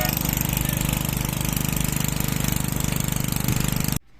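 A motorcycle engine running steadily with a loud, rapid, even throb that continues without a break for about four seconds and then cuts off abruptly.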